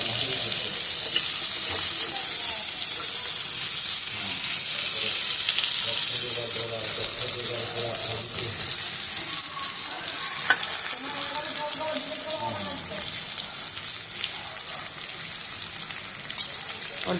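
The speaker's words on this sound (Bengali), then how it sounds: "এবারে ওই তেলের মধ্যে আমি আলুগুলোকেও ভেজে নেব।" Potatoes frying in a little oil make a loud, dense sizzle that hisses steadily, with stirring scrapes and clinks mixed in close up.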